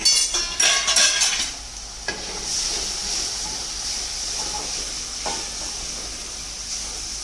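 Gram flour batter is poured slowly into a hot pan and stirred for Maharashtrian pitla, starting with clattering spoon scrapes and then settling into a steady, hissing sizzle.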